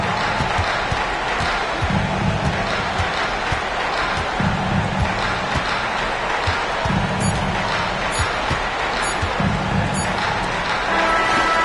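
An arena crowd in NBA 2K26 applauds and roars in a steady loud wash, with rhythmic basketball bounces and squeaks showing through it now and then.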